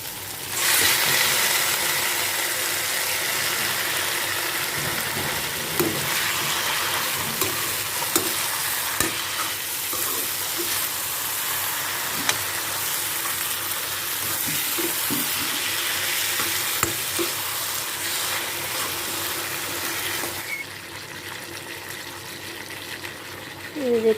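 Pieces of taro fry in hot oil in a pan, a loud, dense sizzle lasting throughout while a utensil stirs and scrapes at intervals; the hiss drops away briefly near the end.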